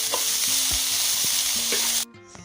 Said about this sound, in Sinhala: දැන් අපි මේක මේ විදිහට හොඳින් කලවම් කරගන්නවා.